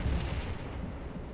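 Video game cannon artillery firing, a single deep, heavy boom at the start that rumbles and fades over about a second, moderately loud with no talk.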